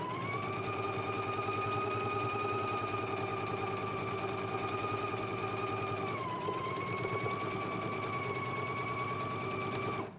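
A sewing machine stitches a sleeve seam at a constant steady whir with a fast rhythmic needle chatter, close and continuous, the pitch dipping slightly partway through, with no voices.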